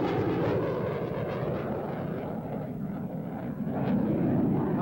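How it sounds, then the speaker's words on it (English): A single-seat FA-18 Alpha Hornet fighter jet roars past at an airshow at Grissom AFB. A broad, steady jet rumble swells slightly at the end, heard loud and continuous with wind buffeting and no speech. "This is an FA-18 Alpha. It's a single-seat fighter attack aircraft."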